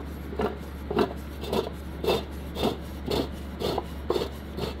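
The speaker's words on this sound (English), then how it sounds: "That's just the noise of the housing when we spin it." Failed transfer case housing from a 2014 Ford Escape spun by hand, giving a steady series of about nine rhythmic rasping, scraping whirs at a regular pace over a constant low hum, fairly close and alone.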